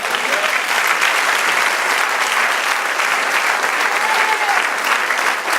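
A church congregation applauds at a worship service, a steady, dense wash of clapping from many hands that holds loud and even throughout, with faint voices mixed in.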